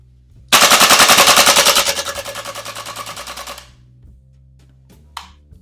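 A WellPro PP-19-01 Vityaz gas blowback airsoft replica fires a long, loud, rapid full-auto burst of sharp cracking shots that tapers off, followed by a pause and a couple of faint mechanical clicks.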